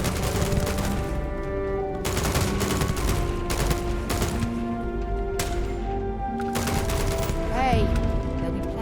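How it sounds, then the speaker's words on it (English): Bursts of gunfire in Starfield, sharp rapid shots and short volleys spread through a busy game soundscape with music, fairly loud and close, while voices talk in between. "there'll be plenty of time for shooting later"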